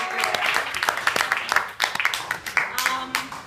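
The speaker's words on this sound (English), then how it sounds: "Let's give it a round of applause" Stand-up comedy audience clapping and cheering for the show's host, a dense burst of hand claps with scattered sharp peaks, fairly close and loud, with crowd voices mixed in.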